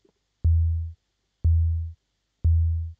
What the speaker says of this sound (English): So I'm gonna pick 40 because that's a E, right? And it sounds like this.